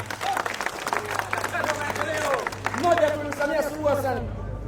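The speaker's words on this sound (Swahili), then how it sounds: "Piga makofi kwa Rais Samia" Scattered applause from a political gathering crowd for President Samia rises and fades under a man's loud speech.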